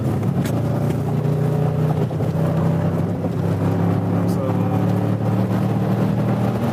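A large SUV accelerates hard at full throttle onto a highway, its engine a steady low drone with road rumble held loud and close throughout, heard from inside the cabin with the AC off.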